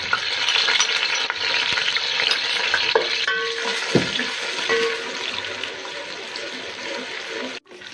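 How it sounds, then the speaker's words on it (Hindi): Steady, loud sizzling of ginger garlic paste frying in hot oil, with occasional stirring scrapes, continuing throughout and fading abruptly near the end. "डाल रहे हैं अदरक लहसुन का पेस्ट उसी ऑयल में।"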